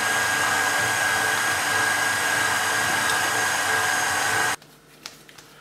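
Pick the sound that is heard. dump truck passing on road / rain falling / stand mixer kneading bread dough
stand mixer kneading bread dough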